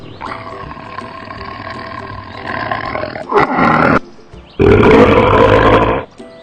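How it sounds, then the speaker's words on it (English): A tiger roars and growls in long, deep, rumbling bursts, the strongest a loud sustained roar near the end, heard close with no talk. "Tiger."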